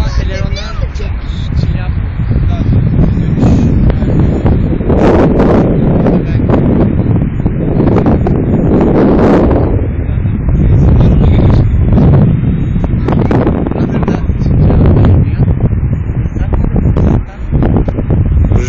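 Gusty wind buffeting an outdoor microphone during a drone flight, heavy low rumbling bursts that rise and fall throughout, with someone talking over it.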